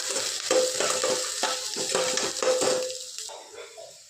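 Onions frying in a pan, a loud close sizzle cut by rhythmic spatula scrapes and stirs, fading toward the end.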